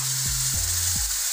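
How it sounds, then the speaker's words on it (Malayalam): Water poured into a hot pan of dried fish pickle gives a loud, continuous sizzle lasting throughout, with a few short stirring scrapes. "ഒരല്പം തിളപ്പിച്ചാറിയ വെള്ളം നമുക്ക് ഇതിനകത്തേക്ക് ചേർക്കാം."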